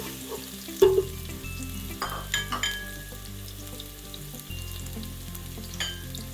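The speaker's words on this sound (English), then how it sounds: "Now we're still put our ginger and stirring it in there." Ginger stirred in a hot pan while making vegan Filipino arroz caldo, a steady close sizzle with a few clinks and scrapes of the spoon, no talking.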